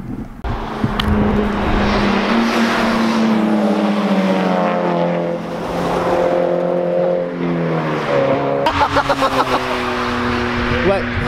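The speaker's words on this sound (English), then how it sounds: "There's been quite a few cars hooning up here" Loud engines roar and rev continuously on a mountain pass near Mt Fuji, Japan, with rising and falling pitch as cars accelerate past nearby, ending in a sharp burst of revving.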